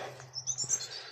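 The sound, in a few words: European robin singing at Rainham Marshes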